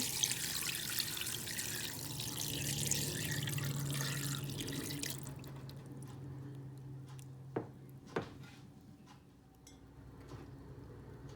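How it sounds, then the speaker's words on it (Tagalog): Water pours steadily into a cooking pot for turkey soup for several seconds, then gives way to quieter trickles and a couple of distinct drips. "And I will add 4 cups of water"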